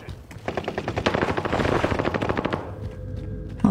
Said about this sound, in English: Shooting at me right now.